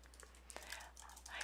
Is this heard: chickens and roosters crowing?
no